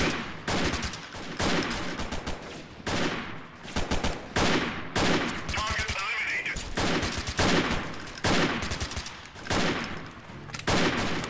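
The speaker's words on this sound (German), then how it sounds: "unsere Scharfschützen schießen" Sniper fire in the combat game Freeman Guerrilla Warfare: loud, close shots in rapid succession, overlapping into an almost continuous barrage for the whole stretch.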